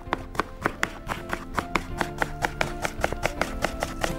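A knife chops potato into pieces for chips on a cutting board, with steady, evenly spaced sharp strikes, about four or five per second, close and clear, with no talking.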